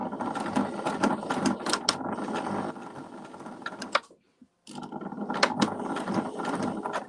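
Domestic sewing machine with a normal foot stitching fabric for eco-printed lavender bags, a rapid rattling whir in two bursts separated by a brief silent pause, close and clear.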